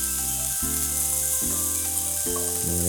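Mushrooms searing in a hot pan give a steady, close sizzle under a continuous low hum, with a few faint scrapes and no voices.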